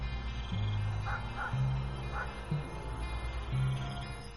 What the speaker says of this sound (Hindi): गीदड़, कुत्ते की आवाज आ रही है